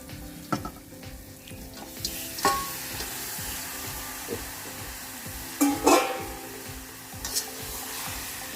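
Pieces of country duck meat drop into a pan of fried, sizzling Bengali curry spice paste. The result is a steady close sizzle with a few louder splattering bursts and clatters as the meat goes in, and no talk.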